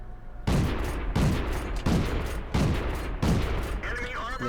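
An M5 Stuart tier 4 light tank fires its gun in World of Tanks: five heavy, booming cannon shots at a steady, roughly even pace, each with a short rumbling tail.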